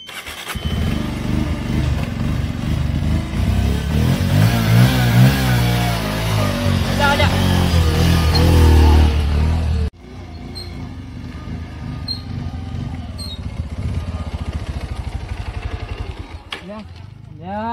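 A motorcycle engine revs loudly and steadily for about ten seconds, then drops to a lower, rougher running note after an abrupt cut, with people talking over it throughout.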